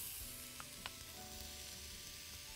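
Onion fries in oil and butter with a quiet, even sizzle and a couple of faint stirring ticks, with no talking.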